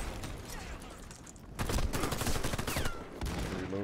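Enemy gunfire in the 2013 shooter game Warface, rapid overlapping bursts of automatic fire that swell louder midway, crackling volleys from several guns with faint voices underneath.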